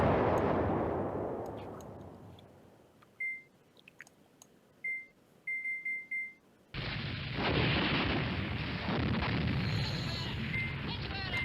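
Artillery in the war game Command Ops 2 sounds as a fading boom, then a few short beeps, then a sudden burst of dense, loud firing and rumble that carries on to the end.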